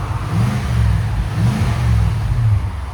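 A Nissan Armada 5.6L V8 with its stock muffler cut off revs twice in quick swells, a loud, deep, rumbling exhaust rising and falling close by.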